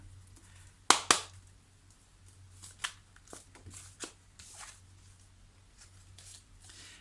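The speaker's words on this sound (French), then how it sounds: "quelques cartes ici avec l'oracle de la rose éternelle." Oracle cards being shuffled and handled, giving a quiet run of soft riffling flicks and a couple of sharper snaps near the start, with no voice over a faint low hum.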